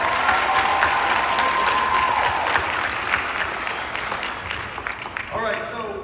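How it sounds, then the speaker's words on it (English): Applause from family, friends and graduates at a Concord Career College graduation ceremony, a steady loud round of clapping that thins and fades toward the end, with speech mixed in. "I want to give you guys a round of applause right now."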